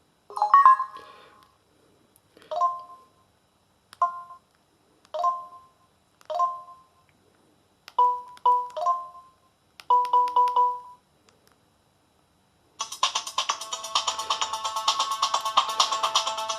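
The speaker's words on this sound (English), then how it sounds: "Music plays quite loudly and it's also very clear." A Samsung Night Effect phone's speaker plays a run of short, evenly spaced electronic tones, then bursts into denser, louder, clear music toward the end, with no voices.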